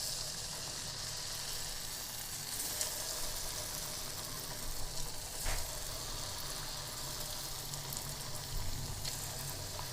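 Marinated suvarna gedde (elephant foot yam) kabab pieces frying in hot oil in a pan, giving a steady, close sizzle with occasional louder crackles throughout.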